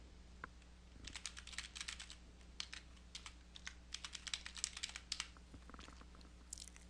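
Fast, light clicking of keys on a computer keyboard as a username and password are typed, in quick irregular bursts, quiet and close with no voices.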